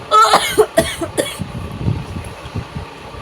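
A person coughs in a short loud burst near the start, a few harsh coughs, followed by quieter rustling and low background rumble.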